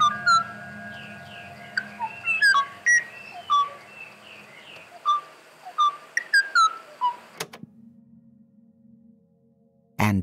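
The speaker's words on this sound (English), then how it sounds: "Had he captured the ʻōʻō song?" A series of clear, fluting Kauai ʻōʻō whistles and short trills played from tape, spaced irregularly over steady background hiss, ending in silence and a sharp click.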